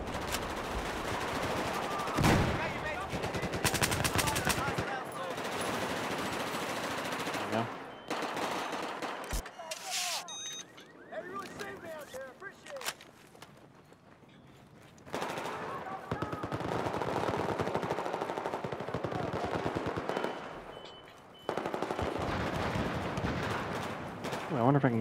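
Automatic weapons fire in Battlefield 4 on Siege of Shanghai, rapid bursts and sustained volleys with louder bangs mixed in, dense and close across long stretches, broken by a brief quieter lull while a player talks over it.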